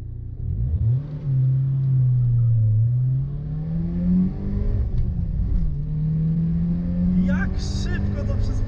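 A BMW M3 E30 launches from standstill at a red light for a 0–100 km/h run, its engine revving hard and rising in pitch through several gear changes, loud and close throughout.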